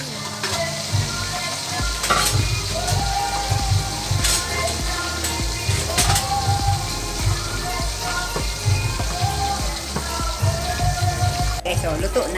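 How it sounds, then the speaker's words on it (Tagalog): Milkfish (bangus) sizzles and fries in hot oil, a steady loud crackle with scattered sharp pops throughout. "Pinapatay ko kasi pumuputok yung bangus."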